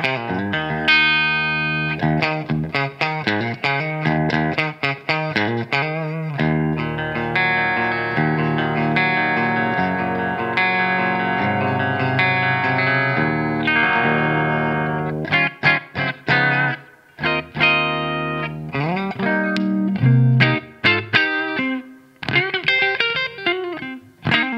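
A Gibson Jessica signature Les Paul electric guitar played with distortion, mixing sustained chords and quick single-note runs with short pauses, loud and close.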